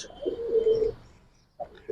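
An Army breed pigeon from a loft of Giribaz and high-flyer pigeons gives one low, throaty coo lasting under a second, followed by a brief second coo after a pause.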